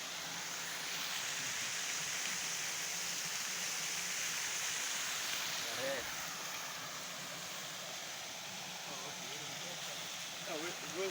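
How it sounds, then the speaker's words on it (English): The waterfall at Ankama in Kwahu roars as a steady, wide rushing wash of falling water, with faint voices and a few brief sounds faintly audible over it. "This is a new discovery of a waterfall that is happening here at Ankama"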